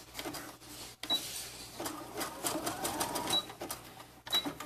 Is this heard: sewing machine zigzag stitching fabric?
yes